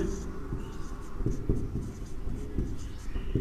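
Marker or pen scratching across a paper map while labelling the coastal plain region, a steady run of soft scraping strokes with a few sharper taps, close and alone without talk.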